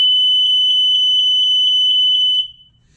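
A BRK 79R smoke alarm under test sounds a shrill, rapid pulsing series of beeps for about two seconds, then stops abruptly.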